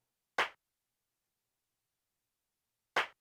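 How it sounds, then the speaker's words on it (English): Down-tuned drum-kit clap in a produced track, two isolated short, dry, bright hits about two and a half seconds apart with silence between. "Gotta love that down-tuned clap."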